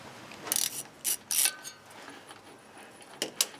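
A ratchet turns a 1/8 inch wobbler socket on universal joint bolts, giving a few quick bursts of ratcheting clicks close by, followed by two shorter clicks near the end. No one speaks.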